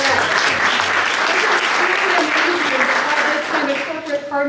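Steady applause from a sizable crowd, clapping continuously before thinning slightly at the end.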